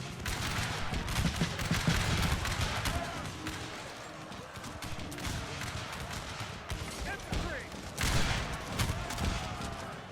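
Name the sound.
gunfire in a Battle of the Bulge war video game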